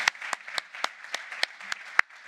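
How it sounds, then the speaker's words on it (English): Sparse, individual claps from a small conference audience after a lightning talks session, distinct separate hand claps spaced about a quarter second apart, fairly close and thin rather than a full roar. "A big round of applause for all of the lightning talkers who spoke very fast"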